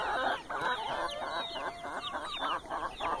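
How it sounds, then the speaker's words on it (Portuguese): Turkeys in a farm pen give repeated, fairly loud gobbling and clucking calls in rhythmic bursts over a few seconds, with no talk heard. "Nesse cercado aqui nós temos quatro perus."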